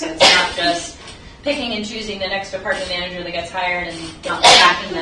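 A single sharp sneeze bursts out twice, near the start and again near the end, breaking through steady close talk at a county commission meeting.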